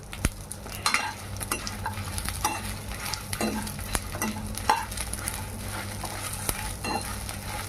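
Dried coconut sizzles steadily in a pan while a utensil stirs and taps against it in irregular strokes, close by with no voices.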